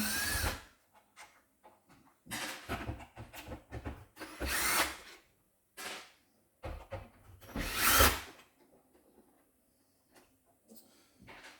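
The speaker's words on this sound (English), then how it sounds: "I'm using a drill for the other one" Several short bursts of a cordless drill whirring on and off while removing screws from a Roborock robot vacuum, spaced apart with quiet gaps between, close by and with no talking.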